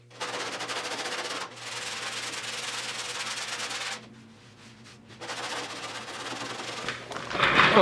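Close, steady rasping of hand sanding on skim coat filler over the bodywork of a 1972 Triumph GT6. It comes in long strokes with a short pause midway, then grows louder at the end.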